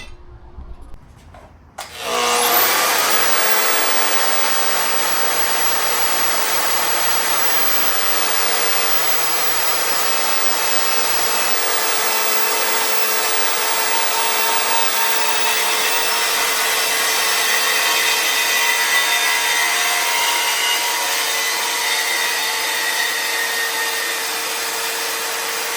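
A power cutting tool slices through an exhaust downpipe: after a brief rustle it spins up into a loud, sustained, high-pitched tonal whine with a harsh grinding edge that holds steady for over twenty seconds, close and without speech.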